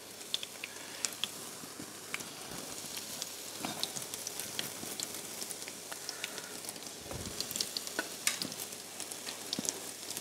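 Meatballs sizzle and fry in a pan with onion, a steady crackling hiss with scattered pops, fairly close and alone, no voices.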